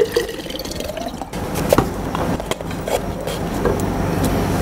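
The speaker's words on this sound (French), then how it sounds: "Vous allez maintenant remplir d'eau." Water pours into a container for a lab density measurement of a solid, a continuous rushing, gurgling fill with a few knocks and drips, close and fairly loud.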